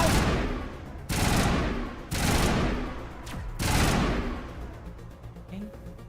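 Enemy gunfire in Mass Effect comes in three loud, sharp bursts about a second apart. Each one cracks hard and decays, followed by a smaller shot and fainter scattered pops near the end.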